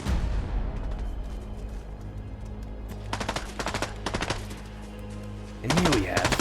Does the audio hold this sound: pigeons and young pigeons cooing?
no